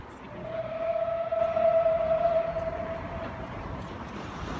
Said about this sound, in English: So we see our outbound train returning to Haworth after the journey.